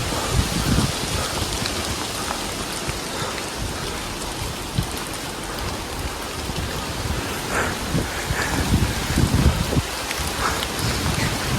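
A downpour hisses and drums without letup on a mountain trail on Mount Lawu in strong wind and thick fog, thick and enveloping, with occasional louder spatters rising out of the steady wash.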